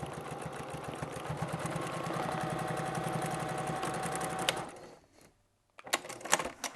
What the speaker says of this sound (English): A whole second row of sewing, just about a needle's width away from that first row.